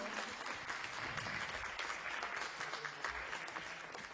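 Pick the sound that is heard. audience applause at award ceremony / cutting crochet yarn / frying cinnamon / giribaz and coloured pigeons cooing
audience applause at award ceremony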